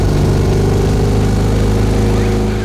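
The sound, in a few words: 2CV-based car's two-cylinder 602 cc engine running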